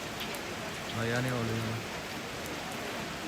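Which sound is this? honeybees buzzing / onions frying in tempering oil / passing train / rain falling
rain falling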